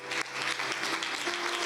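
A church congregation at the Christian Apostolic Church claps in a brief burst of welcome, a short dense spell of applause at moderate level.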